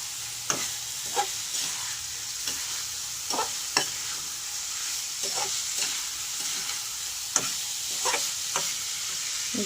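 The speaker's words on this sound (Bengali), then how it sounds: "ফুলকপিগুলো সঙ্গে আমি মশলাটা ভালো করে মিশিয়ে নেব।" Fried cauliflower being stirred into spice masala in a pan, a soft steady sizzle broken by repeated light spatula scrapes and clicks at an irregular rhythm, quiet and without talk.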